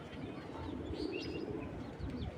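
A young pigeon coos softly and close by, a low murmuring call repeating over faint background noise.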